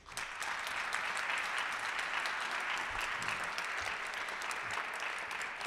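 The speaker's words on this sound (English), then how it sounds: "Let's give Evans Mirageas another hearty round of applause." Audience applause at a Rotary club meeting for guest speaker Evans Mirageas, a steady, dense round of clapping from a roomful of people that holds at an even level throughout with no talking.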